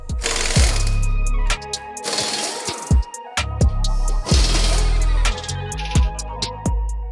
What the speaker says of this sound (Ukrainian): Відкручуємо два болти, звільняємо кріплення